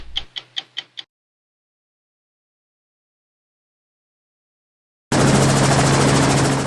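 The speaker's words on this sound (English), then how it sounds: "we flew by helicopter over this vast terrain" A helicopter flies over vast African wildlife terrain. A few quick clicks are followed by long silence, then a loud, steady rotor and engine roar cuts in abruptly and holds.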